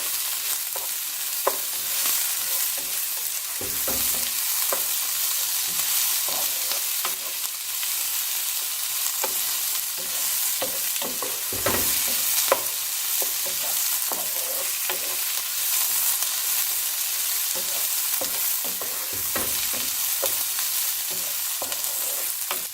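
Rice and corn are stirred in a hot pan, a spoon scraping and pushing the grains in repeated strokes over a constant close sizzle.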